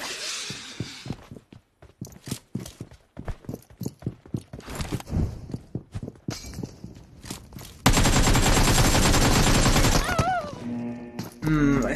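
Rapid bursts of in-game gunfire crack out between talking voices, then a long, dense stretch of continuous automatic fire.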